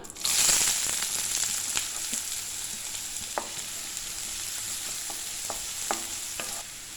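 Chopped onion sizzles and hisses steadily in hot oil, with scattered sharp pops and the occasional scrape of stirring throughout.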